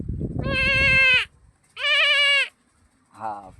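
A person imitates a goat, giving three drawn-out wavering bleats, the first two long and loud, the third shorter and lower, with brief pauses between them.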